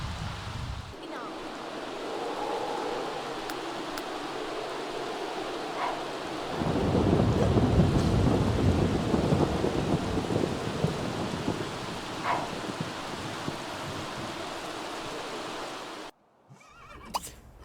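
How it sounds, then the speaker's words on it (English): Rain falls steadily with rolling thunder in a city-building game, swelling to a heavier downpour midway, with a horse neighing faintly amid the storm before the sound cuts out near the end. "Finally the rain has gone."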